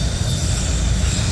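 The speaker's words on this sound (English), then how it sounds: "this is M276 loaded autorack train" A loaded CSX M276 autorack freight train passing at Point of Rocks, Maryland, a loud, continuous rumbling roar with heavy low-end wheel and car noise and no pauses.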